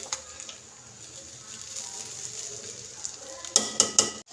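Chinese rice in a pot being mixed after resting on low heat, a quiet soft rustle that ends in a few sharp metallic clinks of a spoon against the pot.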